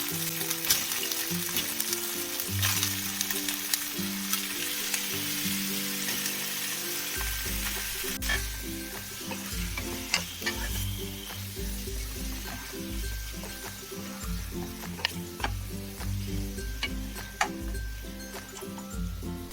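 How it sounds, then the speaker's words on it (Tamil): Chicken sautéing in ginger garlic paste in a pan: steady close sizzling and frying throughout with frequent stirring clacks and scrapes, and no talking. "இந்த இஞ்சி பூண்டு பேஸ்ட்லயே இந்த சிக்கன் வந்து ஒரு 2 நிமிஷத்துக்கு நல்லா வதங்கட்டுங்க"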